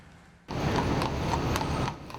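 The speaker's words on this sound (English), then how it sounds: "These majestic creatures have been offering carriage rides around the Big Apple since the 1800s" Carriage horses on a New York City street, heard as a steady run of hoof clip-clops over a dense street rumble that swells in abruptly and holds fairly close.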